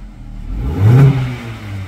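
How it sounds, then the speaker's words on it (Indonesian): A 2016 Suzuki Baleno engine revs up briefly and settles back, a short, close throaty surge. "Digas sekitar 10 kali."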